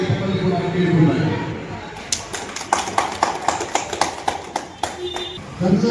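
Applause for someone at a public event in Karnataka: after a voice speaks, a run of sharp, fairly rhythmic claps rises nearby for a few seconds before talk resumes.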